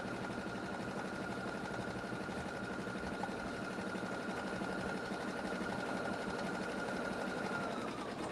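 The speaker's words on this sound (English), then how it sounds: "So maybe I'll just stitch over it again to cover up that white." A sewing machine stitches steadily over fabric, a continuous close whirring hum with a fast mechanical needle rhythm that runs without pause.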